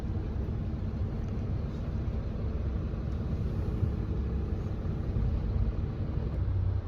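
Queued vehicles in a heavy traffic jam at Bakau port give off a steady, unbroken low engine rumble that fills the whole stretch, with no voices.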